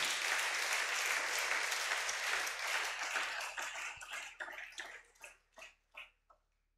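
Church congregation applauds in praise of Jesus during a sermon, a loud, dense wave of clapping that thins out into a few separate, spaced claps before falling silent.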